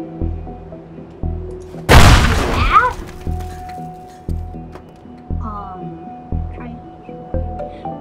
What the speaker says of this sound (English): So I have to use the explosive things to break the cement, the bricks.